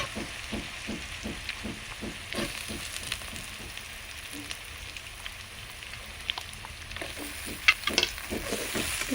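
Chopped onions dropped into hot oil with already-fried garlic, cooking a village-style Bengali chicken kosha, give a steady soft sizzle with light stirring clicks and scrapes throughout, close by, with no talking.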